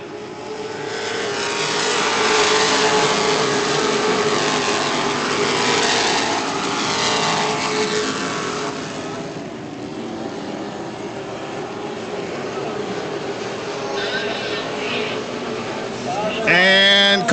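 Sportsman race cars battle three-wide on a racetrack, their engines roaring past, swelling and fading as a race announcer talks over the noise, with a brief rising whine near the end.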